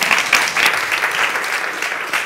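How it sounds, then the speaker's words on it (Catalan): An audience applauds at the opening of a conference talk, with brisk, dense clapping filling the hall steadily from start to finish. "Doncs un aplaudiment."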